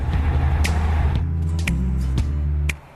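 VW Amarok pickup engine running steadily while driving, a low continuous rumble close by with a few faint clicks and knocks over it, then dropping quieter near the end.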